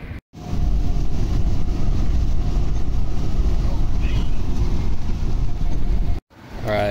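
A semi truck rig drives on the highway with a loud, steady low engine and road roar filling the cabin, broken by two abrupt cuts.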